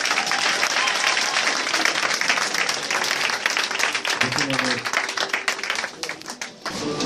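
A church congregation at a worship service applauds and cheers for Jesus, with loud, sustained clapping from a large crowd under voices, fading a little toward the end.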